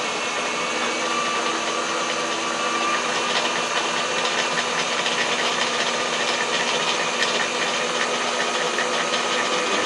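Machine cutting a small thread at 300 RPM, 1.5 millimeter minor diameter, gives a steady, even mechanical whir with faint rattling texture, constant and moderately close with no talking.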